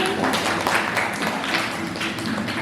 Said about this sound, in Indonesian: tepuk tangan untuk naik